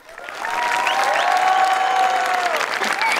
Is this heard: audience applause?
yes